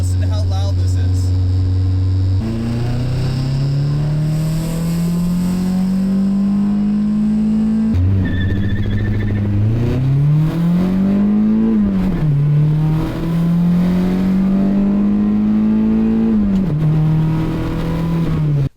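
Acura Integra project car engine with a leaking valve cover gasket, revving loud and close with a rough, rattling drone that climbs and falls through several pulls, while speech is heard briefly over it.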